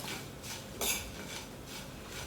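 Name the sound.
mixing okra and tomato with spice powders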